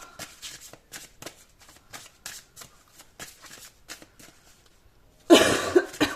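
Tarot cards being shuffled in a series of quick, rhythmic riffles close to the listener, followed by a louder burst of dense rustling.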